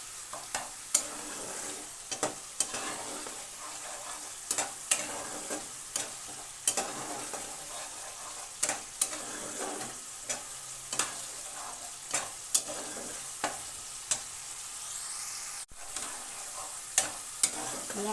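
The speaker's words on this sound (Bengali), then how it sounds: "মশলা কষানো হয়ে এসছে" Spice mix with eggplant sautéing in oil in a pan for a vegetarian oil-chilli dish: regular scraping stirs, spaced a second or so apart, over a soft steady sizzle, close and unvoiced.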